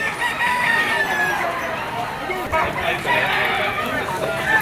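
A sweater-bloodline stag rooster at the Malabon pet market crows amid a noisy crowd of chatter and other fowl, with clucking and calls running throughout.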